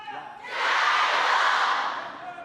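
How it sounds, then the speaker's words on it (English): Crowd cheering at a 2026 US Smash table tennis mixed doubles final, a broad roar that swells quickly, holds loud for over a second, then fades back toward a murmur. "This crowd is hot right now, man. They are into this match."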